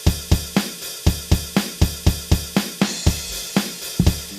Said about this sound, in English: Just kind of a very basic rock groove.